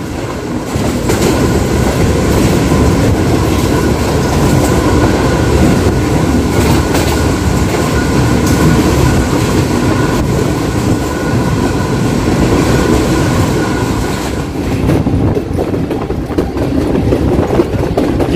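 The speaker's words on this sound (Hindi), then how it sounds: "7 तेजगाम एक्सप्रेस लाहौर शहर में दाखिल हो चुकी है और GU 49016 बहुत ही शानदार रफ्तार के साथ ट्रेन को लीड कर रहा है।" The Tezgam Express, led by a GEU-40 diesel locomotive, travels at speed through Lahore, with a loud, steady roar of wheels and carriages, clickety-clack and faint squeals, continuous and close, no voices.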